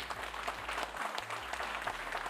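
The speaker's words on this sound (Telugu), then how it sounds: "ఆయనకి బిగ్ క్లాప్స్ ఇవ్వండి" Applause from an audience at a company success meet marking a first anniversary, a steady dense wash of many hands clapping throughout, moderately loud and close with no talk over it.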